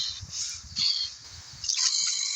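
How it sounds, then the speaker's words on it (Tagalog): A bird in a video game gives a few harsh, raspy squawks in quick succession, fairly loud and close, with no one talking. "there's a bird"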